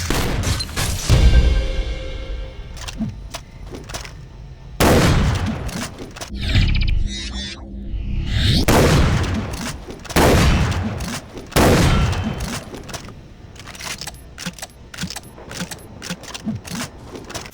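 Shotgun blasts from first-person shooter games such as Far Cry 3 Blood Dragon, a series of loud, booming shots with sharp attacks and decaying tails, spaced irregularly with brief mechanical clacks of reloading between them.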